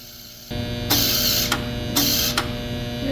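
A MIG welder's wire feeder motor runs steadily, pushing .035 E71T-GS flux core welding wire, with two short bursts of hissing in between. The sound is close, with no talking.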